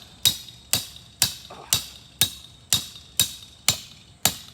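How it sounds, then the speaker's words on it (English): A hammer drives a yard sign stake into hard, dry ground in nine sharp metallic strikes about half a second apart, each a crisp close bang with a short ringing decay and nothing else heard. "It hasn't rained in forever, so you really gotta hammer."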